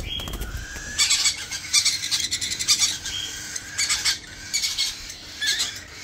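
A sun conure parrot boarding at a bird farm gives repeated shrill, raspy calls in short bursts, loud and close over steady background noise, with no talking.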